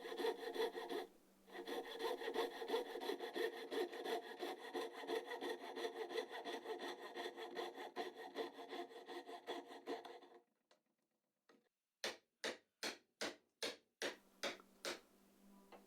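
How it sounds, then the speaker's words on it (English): A coping saw cuts through wood in a long run of steady, rapid rasping strokes, close and loud; after a brief pause a short burst of about eight separate, evenly spaced strokes follows. "If your coping saw blade breaks, just use your other coping saw."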